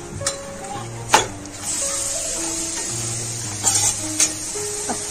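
Raisins fry in oil in a pan while being stirred, giving a steady sizzle with a few sharp scraping clicks of the spoon against the metal and a low background hum.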